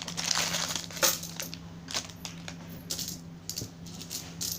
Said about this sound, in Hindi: इसके अंदर हैं वो सिक्के,